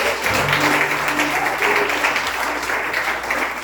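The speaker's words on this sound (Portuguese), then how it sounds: "Você pode aplaudir ao Senhor." A church congregation applauding, steady dense clapping from many hands at close range with a faint voice underneath.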